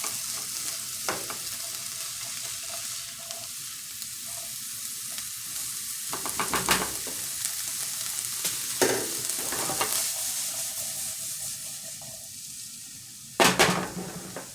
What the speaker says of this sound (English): So I'm going to keep stirring this and let this cook for about 2 more minutes.